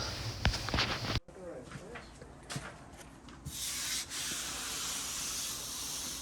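Scratchy back-and-forth sanding of joint compound on a wall, switching to a steadier hiss partway through; a voice talks quietly over the first part.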